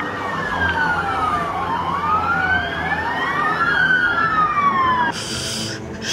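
A police car siren wails loudly close by, its pitch sweeping up and down in long rising and falling cycles before cutting off abruptly near the end.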